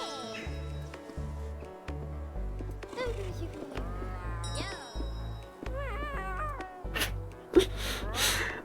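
Cats in the video game Cat Cafe Manager meow repeatedly, with several rising and falling calls at close range, layered over a steady thumping game-music rhythm.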